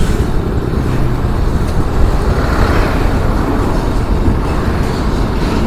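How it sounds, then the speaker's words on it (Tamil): Heavy traffic roar on a highway, a large heavy vehicle rumbling past at close range amid steady road noise, loud and continuous throughout with no talk. "எவ்வளோ பெரிய வண்டி, என்ன வண்டியாக இருக்கும் இது? ராட்சச வண்டிங்க."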